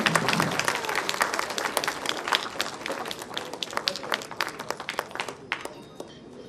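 An audience at a launch of the teaser for the action thriller film Phoenix breaks into dense clapping that starts strong, gradually thins to scattered claps, and fades near the end.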